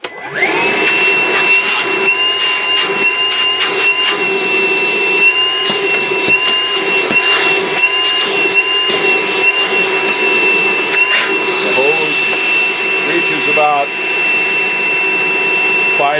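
A Milwaukee M18 cordless battery-powered vacuum cleaner runs continuously at close range, giving a loud, steady high-pitched motor whine and airflow rush with a constant tone throughout.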